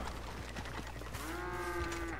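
A cow in Red Dead Redemption 2 Online gives one steady, drawn-out moo, starting after a second of low background game ambience and rumble.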